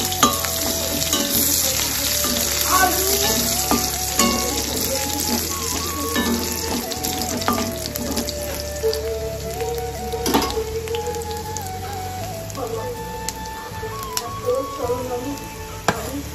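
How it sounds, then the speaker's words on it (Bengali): Chopped ginger and garlic frying in hot oil in a kadhai for chilli chicken, a dense crackling sizzle with occasional stirring clinks, close and steady throughout. "এই জন্য প্রথমে দিয়ে দিচ্ছি আদা কুচি, আর তার সাথে দিচ্ছি রসুন কুচি।"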